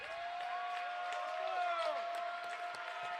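A basketball crowd of Falcon fans at a Lancaster vs FCA varsity boys game cheers on its feet, a steady, loud roar filling the gym with squeaky tones over the top.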